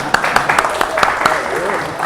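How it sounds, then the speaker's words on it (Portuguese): Scattered hand claps from a small group applauding a man named Juan, a handful of sharp claps spread across a couple of seconds beneath ongoing talk. "Uma salva de palmas pro Juan aí"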